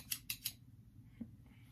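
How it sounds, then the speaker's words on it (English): Brand new fabric scissors snip three times in quick succession, crisp and close, followed by a faint trailing cut and quiet room sound. "let me show you my fabulous brand new fabric scissors"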